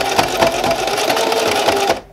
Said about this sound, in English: Now you can turn your sewing machine on, sew forward a little, go all the way back,